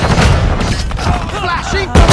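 Gunfire in the video game Modern Warfare 2, loud bursts of shots and booms mixed with shouted in-game voice callouts throughout.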